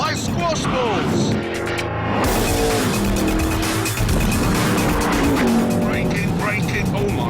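A Noble M600 sports car driving fast, its engine revving through rising and falling pitch sweeps with shifts and tire noise, loud and close throughout, with a voice talking over it.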